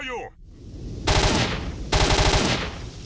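Two loud, close bursts of automatic fire in S.T.A.L.K.E.R.: Shadow of Chernobyl, each lasting about half a second with rapid rattling shots, after a brief voice at the start.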